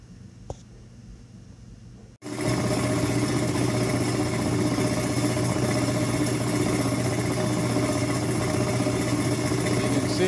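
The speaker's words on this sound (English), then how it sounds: "I'm going to set the saw up now, give it a couple turns on the vise, and" A slab saw starts up to cut small Apache Tears rocks into thin slabs. After a quiet start with a faint click, a loud, steady whirring drone kicks in abruptly and holds evenly to the end.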